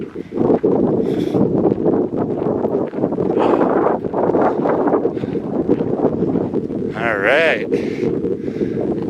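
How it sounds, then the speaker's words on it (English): Strong wind whips off a mountain lake in Utah's backcountry, roaring and buffeting the microphone in constant gusts while a hiker speaks over it. "The wind is whipping off of the lake straight into me."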